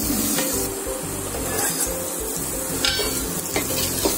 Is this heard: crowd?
no